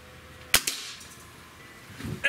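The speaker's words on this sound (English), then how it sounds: "This is a 50 grain pellet coming out of a break barrel." A break-barrel air rifle fires a single 50 grain pellet, a sharp close crack followed by a quick second snap, then quiet room tone.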